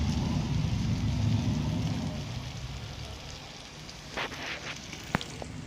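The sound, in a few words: potatoes added to a cooking pan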